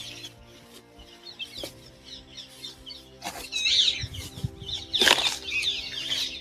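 Birds and chickens in a quiet, green, leafy place: repeated wing flapping with scattered chirps and clucks, growing busier and louder partway through, and no one talking.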